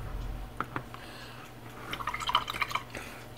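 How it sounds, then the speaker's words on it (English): A paintbrush is dipped and swished in a water pot, giving a few soft knocks followed by a quick burst of small, close drips and tinkling splashes, then quiet. "just keep dipping our brush into the water, shaking it off or wiping it a little bit off"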